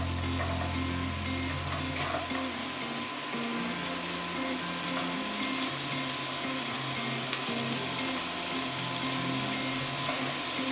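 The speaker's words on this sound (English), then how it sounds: "My celery, my parsley, my carrots all together with the pancetta, right?" Carrots, celery and parsley sauté with pancetta, onions and garlic in a pan, a steady close sizzle with an underlying hum running throughout and no voices.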